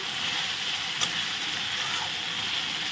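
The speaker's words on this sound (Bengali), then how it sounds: "মশলাটা দেখো কত সুন্দর কষানো হচ্ছে" Spice paste is sautéed in a pan, the base for a curry of young goat liver with tender green jackfruit. A loud, continuous sizzle fills the clip, with one brief knock near the middle.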